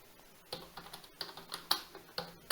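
Fingers tap on a computer keyboard at close range, a quiet, irregular run of crisp clicks with a few louder keystrokes, alone without speech.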